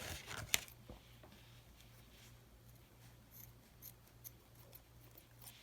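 Scissors snip once through crochet yarn, a single sharp close cut near the start, followed by quiet handling rustles with no talk.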